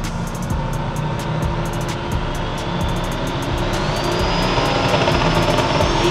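Car doing a burnout at a street racing event, the engine holding a loud continuous high-rev roar with a rising whine, close and sustained throughout, no talking.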